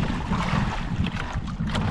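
Strong wind buffets a small fishing boat in shallow water, a steady, close roaring rush that carries through the whole moment without pause.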